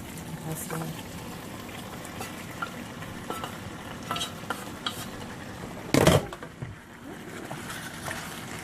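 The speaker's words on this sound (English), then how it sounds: "I'm just going to add it right to my sauce here" Al dente pasta tipped into a pan of parmesan sauce and stirred, with scattered clinks of utensil on pan, a soft bubbling sizzle and one loud splashy clatter as it goes in, while someone talks.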